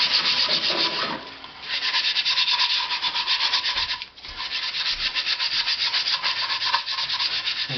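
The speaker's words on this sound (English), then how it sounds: "we're going to scuff it up. So we're going to use our scouring pad." Steady scouring pad scrubbing across the stock of a Savage .22 Rascal rifle, close and loud, in long continuous strokes with a brief pause around the middle.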